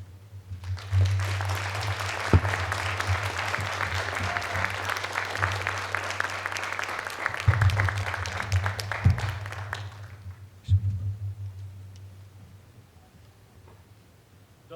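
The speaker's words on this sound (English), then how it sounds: "Let's give them another round of applause, guys." A crowd at a juvenile justice reform presentation applauds steadily for about ten seconds, then the clapping thins out and fades, with a low hum underneath throughout.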